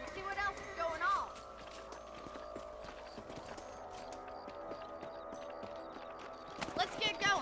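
Horse hooves clip-clopping in the Red Dead Redemption video game, a steady rhythmic trot under voices talking, with louder bursts at the start and end.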